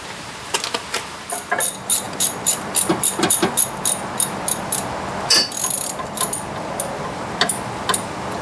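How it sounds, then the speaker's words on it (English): Metal clicking and ratcheting taps as a pry bar works at the steering rod on the steering gear box of a 1997-2006 Jeep Wrangler TJ, a series of sharp close knocks and scrapes with no talking. "I'm going to go ahead and use a pry bar to see if I can just slip it off"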